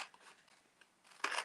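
Small scissors snip through paper cut-out egg templates, a few soft, faint cuts followed by a louder, crisp burst of snipping close by, with no voices.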